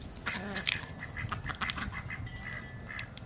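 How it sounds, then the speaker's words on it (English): Ducks quack repeatedly in a winter garden in January, the calls fairly close and overlapping against steady outdoor background noise. "Hello, ducks."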